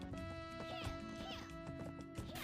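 A horse gallops in the online role-playing game Black Desert Online, with steady clip-clop hoofbeats, an occasional whinny and dense game music and effects layered over it throughout.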